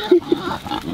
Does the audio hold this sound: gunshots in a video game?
no